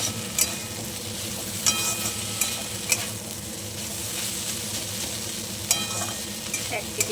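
Flat beans stirred dry in a hot pan, a low continuous sizzle with scattered sharp spatula scrapes and clicks at irregular intervals, close and without talk.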